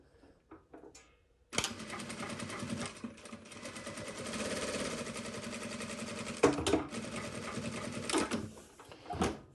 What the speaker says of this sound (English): We're going to do 3 stitches back, 3 stitches forward, 3 stitches back, 3 stitches forward, and then it'll finish.